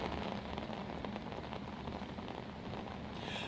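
Heavy rain from Cyclone Fengal pours down in Mangaluru, a dense steady hiss of drops on surfaces that stays loud and unbroken throughout, with no voices.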